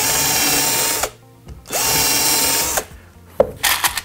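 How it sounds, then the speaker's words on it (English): A power drill whirs in two sustained bursts, pilot drilling wooden pallet slats for a workbench, each winding up and cutting off, followed by a few short clicks and knocks. "then we can start to pilot drill them again and fix them into position"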